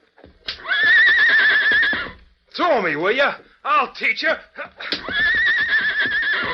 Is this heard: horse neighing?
yes